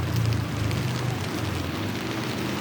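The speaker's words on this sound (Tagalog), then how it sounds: "tingnan natin yung ulan" Heavy typhoon rain from Typhoon Carina pours steadily, a dense continuous wash of rainfall with low rumbling underneath, loud and unbroken throughout with no voices.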